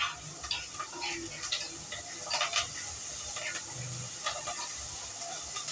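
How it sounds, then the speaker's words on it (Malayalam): Onions sizzling softly in a pan for a Telangana-style curry, a quiet steady hiss with occasional ticks and stirring clatters, heard close up without talk. "എനിക്ക് ഉള്ളി നല്ലപോലെ അങ്ങ് മൂത്ത് കിട്ടണം"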